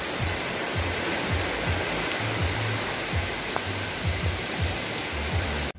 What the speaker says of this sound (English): Pouring on the Luna Red.